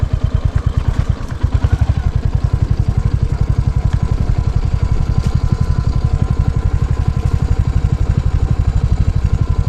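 A motorcycle climbing mountain hairpin bends gives a steady, loud, low engine throb with an even rapid pulse throughout, up close and unbroken.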